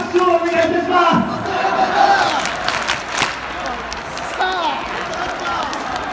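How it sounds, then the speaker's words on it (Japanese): A stadium crowd at a J2 league football match applauds the players after the game, distant clapping and crowd noise mixed with chanting voices, while a public-address announcement echoes over the top. "皆さん選手へ今一度大きな拍手をお願いいたします"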